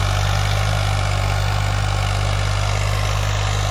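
A 2007 Farmtrac 60 tractor engine runs steadily while pulling a tiller, giving a constant loud low diesel drone with a deep hum and no break in level.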